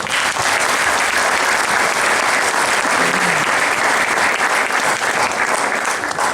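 Loud, sustained applause from a crowd, dense steady clapping that fills the whole stretch without letting up.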